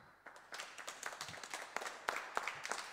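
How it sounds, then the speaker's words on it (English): A small audience claps at a show, with scattered individual claps building into light, uneven applause, fairly quiet and somewhat distant. "Please, a round of applause."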